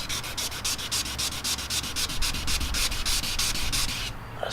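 Filler primer on a car bumper being hand sanded: steady, close, rhythmic scratchy strokes back and forth at a brisk even pace, stopping near the end, with no voices.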